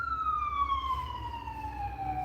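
A siren wails with a single long descending tone over a low traffic rumble, fairly loud and steady, as the emergency vehicle passes with its pitch dropping away.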